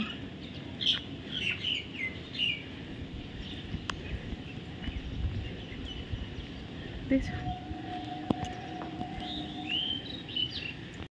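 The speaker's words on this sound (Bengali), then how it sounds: "দুটো পাখি" Two birds chirp and call intermittently from a rooftop among rose-apple and lemon trees in rainy weather, with faint scattered tweets over a steady outdoor background of wind and murmuring sounds.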